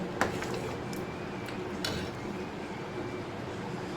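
A spoon stirs a pea and potato curry in a pan, giving a few scattered metallic clinks and scrapes over a steady hiss of background noise.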